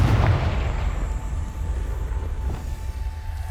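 A fiery spell explosion in a fantasy video game lets out a loud, sustained rumbling blast, deep and booming throughout with a crackling roar that slowly fades.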